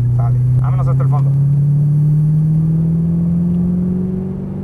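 An Audi R8 accelerates on a track, its engine note a loud, close, steadily rising drone, with someone speaking briefly over it at the start.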